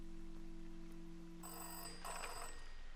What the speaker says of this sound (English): Oh, this phone is ringing.